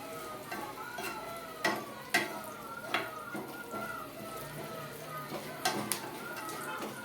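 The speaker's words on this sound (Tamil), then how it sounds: "நல்லா பொரியட்டும்." Fenugreek seeds and curry leaves fry in hot oil for a garlic pickle, giving a soft steady crackle with a few sharp pops and clinks of a stirring spoon against the pan, close by.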